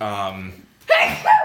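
A person sneezes once, sharp and close, after a brief trailing voice and a short pause.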